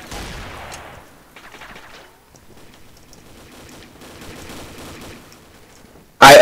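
Gunfire in the Combat Arms video game during a clan war match: scattered quiet bursts of shots at a distance across several seconds, then a sudden loud, close blast at the very end.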